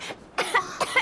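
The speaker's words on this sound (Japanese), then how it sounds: "今朝も咳込んでたな。" A character in Final Fantasy XVI coughs: a short run of three or four dry, breathy coughs, close and fairly loud, with a brief pause after the first.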